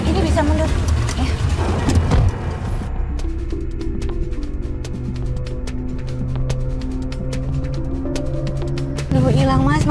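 Street noise from a heavy Indonesian traffic jam, a continuous low engine rumble with scattered tonal horn-like hums and clicks, while people talk over it throughout.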